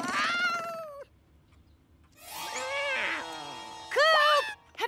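A cartoon cat meows several times in drawn-out, rising and falling cries, close and fairly loud, with short pauses between calls.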